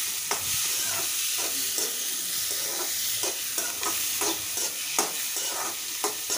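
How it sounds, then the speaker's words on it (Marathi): Tomatoes sauté on a hot tawa for tawa pulao, with a steady sizzle broken by repeated rhythmic scrapes and clacks of a spatula stirring them, close and moderately loud. "टोमॅटो थोडा परतून घ्यायचा"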